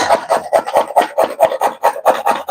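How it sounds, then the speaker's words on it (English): Carrots rubbed against a kitchen grater, about a dozen quick rasping scrapes in a steady back-and-forth rhythm, loud and close with no speech. "Now we're gonna switch to the grater. I'm gonna put some carrots in this."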